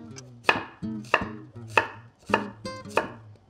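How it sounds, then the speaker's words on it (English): A knife chops vegetables into half moons on a cutting board while pasta all'amatriciana is being prepared, giving five crisp, evenly spaced chops close up with no talking. "So we're just cutting half moons here."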